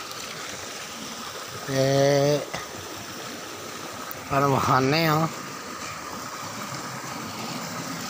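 A motor-driven water pump, thought to have a fault reducing its output, sends out a continuous rushing flow of water, a steady broadband wash broken twice by short bursts of nearby speech.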